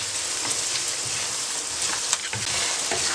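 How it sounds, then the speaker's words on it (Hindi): Spices and fresh garlic paste fry in a pan for a carrot, pea and potato pulao, producing a loud, continuous sizzle with scattered crackles and spits, close and with no voices over it. "मैंने 1 मिनट से कम टाइम के लिए इन स्पाइसेस को फ्राई किया"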